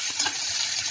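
Chopped onion hits hot oil seasoned with asafoetida in a pan, giving a steady hissing sizzle with faint stirring scrapes, close and continuous with no talking.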